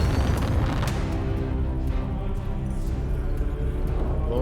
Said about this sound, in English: What are these rockets?